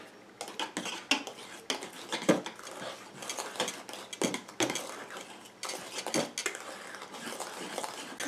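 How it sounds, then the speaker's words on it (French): Coconut conditioner cream is stirred in a container, producing repeated scraping and clinking taps of a utensil against the sides in an uneven rhythm, close up and alone. "Et je viens mélanger"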